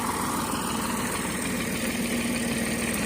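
A tractor engine runs steadily and loudly, a low continuous drone as it strains to pull another tractor stuck in a field, with no talk.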